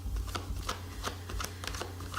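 Tarot cards are shuffled in quick repeated riffles with soft papery flicks, close and fairly quiet over a steady low hum, with no talking.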